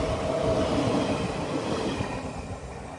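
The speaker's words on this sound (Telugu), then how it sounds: "పక్కనే ఏదో ట్రైన్ వచ్చింది." A passenger train rolls past right alongside at a railway station, its steady loud rumble and wheel noise filling the whole stretch and easing slightly toward the end.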